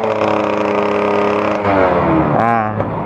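A motorcycle engine with a Force carburetor being tuned idles steadily, then revs up and drops back, loud and close, with a brief sharp blip near the end.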